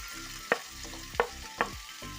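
Ginger, garlic and chopped onion frying in hot oil, giving a soft continuous sizzle broken by three sharp scraping stirs, close by and with no voices.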